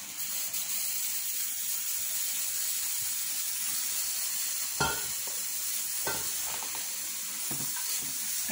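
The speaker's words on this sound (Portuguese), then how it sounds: "A gente vai colocando a água, tá?" Water poured into the tray of a Giulietta Cotherm electric grill gives a continuous fizzing, hissing wash with a couple of brief clunks midway, close and steady, with no voice.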